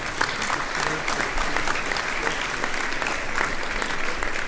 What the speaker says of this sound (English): Let's please give all of our participants all day a round of applause.